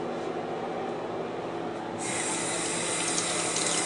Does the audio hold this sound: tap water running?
yes